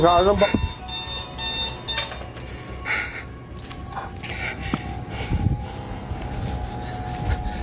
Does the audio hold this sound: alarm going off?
yes